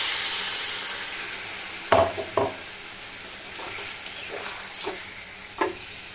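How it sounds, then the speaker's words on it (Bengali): Chicken frying in oil in a pan gives a steady background sizzle, broken by a few sharp, louder bursts of splashing sizzle as small amounts of water hit the hot pan, with stirring sounds in between. "এবারে আমি সামান্য একটু জল দিয়ে ঢেকে নেব"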